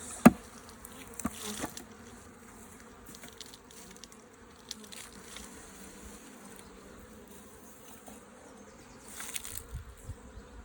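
Honeybees buzz in a continuous low drone, a dense swarm hum with occasional nearer passes and faint clicks and knocks as bees are shaken from a cover into a box while a nuc is moved into a hive.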